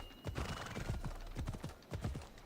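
Horse hooves clip-clop at a steady walking pace through a village in Assassin's Creed Odyssey, set in ancient Greece, with occasional whinnies mixed in at a moderate level.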